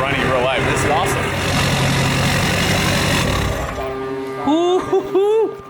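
A Hummer fitted with a Duramax diesel engine runs with a steady, rumbling idle close by, and people talk over it toward the end.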